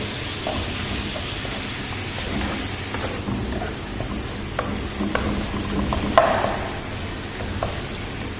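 Tomato paste being stirred into a red restaurant-style gravy in a pan, giving a steady low sizzle with soft scraping and occasional utensil clicks, one sharper knock near the end, with no talking.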